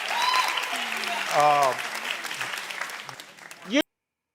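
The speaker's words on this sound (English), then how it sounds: "What are y'all clapping at?" Studio audience clapping through a talk-show conversation, with cheering and whoops rising in the middle and a voice cutting in just before the sound stops abruptly.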